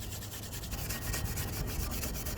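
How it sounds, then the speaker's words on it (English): A brush rubs briskly back and forth over the front brake caliper area of a Hyundai Genesis in a steady rhythmic scrubbing, heard close up and alone. "brush this area off too"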